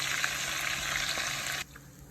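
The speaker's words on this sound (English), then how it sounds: "just let this keep on frying down and move it around as we go" A steady, loud sizzle of chicken frying in a pan, close by, which cuts off abruptly near the end, leaving a quieter hiss.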